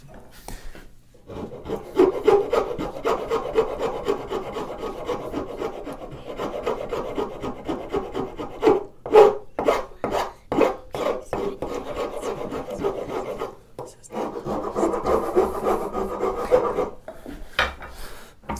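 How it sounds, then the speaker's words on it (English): A hand file rasping across firewood while shaping a wooden grooving plane, steady back-and-forth strokes close up for a long run, with brief pauses and a few sharper knocks. "Then we can come in with the finer file."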